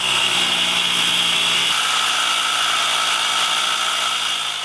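A Dremel rotary tool runs steadily in an off-grid cabin, a continuous high-pitched whine that stays loud and close for the whole stretch, with a lower hum dropping away partway through and no talk over it.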